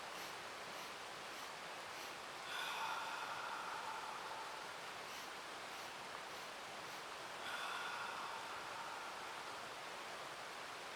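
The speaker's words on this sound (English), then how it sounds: "So it's just 4 times in through the nose, and then a long ocean breath, exhale" Paced meditation breathing, quick sniffs in through the nose and then a long, airy ocean-style exhale through the mouth. Two soft, close breath swells stand out over a steady hiss, and nobody speaks.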